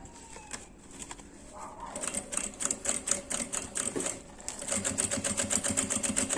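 A domestic sewing machine stitching fabric slowly for a sewn essential-oil holder, giving a close, even train of rapid needle clicks that pauses briefly midway and then resumes with a steady rhythm.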